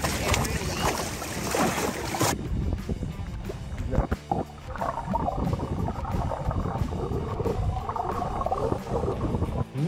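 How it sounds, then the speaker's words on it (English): An offshore fishing boat's motor rumbles steadily on the Florida Atlantic, with wind buffeting the microphone, water sloshing against the hull, and occasional knocks on deck; loud and close throughout, with a harsh gust burst at the start. "There's a motor that's on. One motor's on, Alissa."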